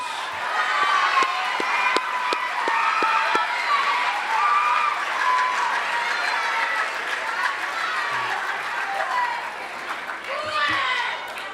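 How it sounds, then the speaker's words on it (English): Junior high school awards ceremony audience applauding a group of students, with steady crowd clapping throughout, some cheering and children's voices mixed in, and talk over the applause. "give this group another round of applause"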